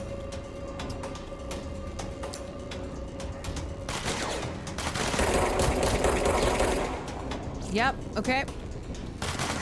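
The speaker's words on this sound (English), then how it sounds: "He's shooting at the wall, and so am I." Gunshots fired at a wall during a street protest, a burst of rapid cracks building in the middle under background crowd noise, with a short spoken reply near the start.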